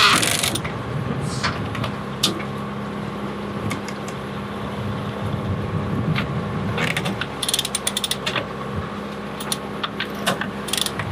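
A sailboat reefing line runs through a pulley block, producing repeated ratcheting clicks and rattling mechanical ticks over a low background hum, some in quick bursts, with no talk.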